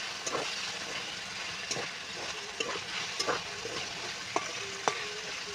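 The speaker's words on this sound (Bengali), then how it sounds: "মাঝে মাঝে একবার করে আমি নেড়ে নিচ্ছি" Banana flower and vegetables frying in a pan, stirred now and then, giving a low continuous sizzle with occasional sharp clicks and scrapes of a spatula against the pan.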